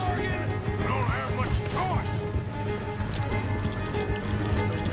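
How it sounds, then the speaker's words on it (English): A horse gallops with rapid hoofbeats and a neigh in Red Dead Redemption 2, the in-game riding sounds heard close under a constant mix of game audio and speech. "Get your ass off that horse."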